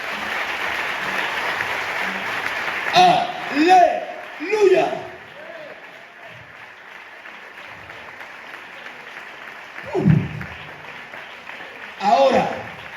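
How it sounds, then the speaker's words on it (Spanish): A church congregation applauds during a sermon with a steady, moderate patter of clapping through the whole stretch, broken by several loud shouted exclamations from individuals. "Denle el mejor aplauso que tengan para Dios."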